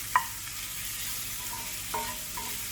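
Crushed ginger stirred into a pan of frying potato and wilting greens, a soft steady sizzle broken by a few light clinks of a spoon against the pan.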